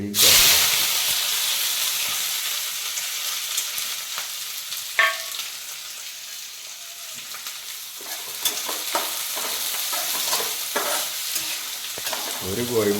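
Mustard seeds and onion fry in coconut oil for an egg curry, giving a steady loud sizzle with occasional sharp pops and stirring scrapes throughout, and no talking.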